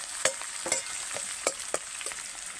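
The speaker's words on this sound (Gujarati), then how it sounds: "ડુંગળી હવે થોડીક વાર આને તેલમાં પાકવા દઈએ" Onion frying in oil for Gujarati shing bhajiya shaak, a steady close sizzle with a high constant hiss and several sharp spatula taps and stirring scrapes.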